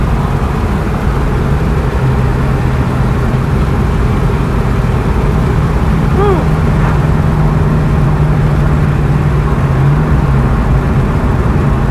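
A 2003 Mustang Cobra engine pulls hard through the gears on a drive, heard from inside the cabin as a loud, continuous drone with a steady low hum that holds for the whole stretch.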